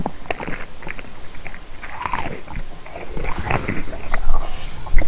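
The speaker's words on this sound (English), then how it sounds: "just crunch your chips into the mic" Potato chips crunched and chewed right up against a microphone, a close, loud run of irregular crisp bites and mastication with no talk over it.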